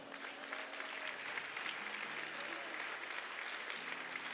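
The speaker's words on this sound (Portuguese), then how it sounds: "Alguém me ajude a aplaudir o Senhor aqui." Church congregation applauding steadily during a sermon, a dense wash of clapping heard at moderate distance and fairly quiet, continuous for a few seconds without a break.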